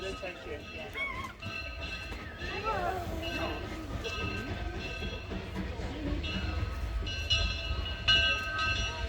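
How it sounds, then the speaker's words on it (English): A train on the Zig Zag Railway rumbles steadily nearby, a low continuous drone with faint squeals and clanks, while people chatter in the background. "Here the train comes."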